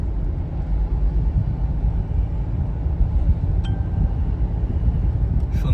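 Steady low engine rumble and road noise from a car driving straight along a road between Coimbatore and Kozhikode via Anaikatty, continuous and loud with a faint brief clink near the end.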